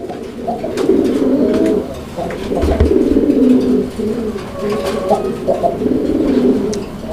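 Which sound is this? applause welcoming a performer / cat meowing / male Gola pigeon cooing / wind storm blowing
male Gola pigeon cooing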